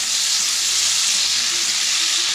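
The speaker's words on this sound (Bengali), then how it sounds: "আমি চিংড়ি মাছ ভাজছি" Prawns fry in hot oil in a home kitchen, giving a steady, close bright sizzle with no pauses and no voices.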